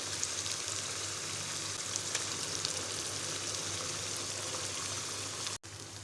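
Chicken pieces sizzle steadily in a pan with ground onions, a continuous close hiss and crackle with no voices, briefly cutting out near the end.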